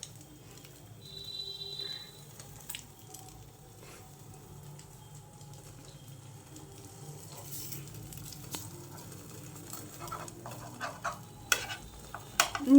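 Beaten eggs for an omelette fry quietly in a pan, with a soft steady sizzle and scattered light crackles and taps that grow sharper toward the end.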